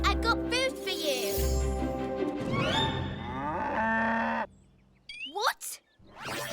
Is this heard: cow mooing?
yes